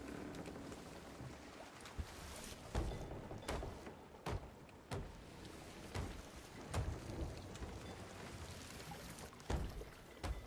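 In the video game Sea of Thieves, heavy rain roars steadily while sharp thunder cracks and booms break through at irregular intervals, loud and close, with no voices.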